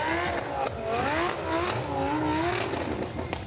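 Rotary-engined drift car on stretched Toyo tires over Rotiform wheels, drifting at a Goodwood Festival of Speed competition, with a loud, continuous high-revving engine wail that rises and falls steadily for the whole stretch, no talk over it.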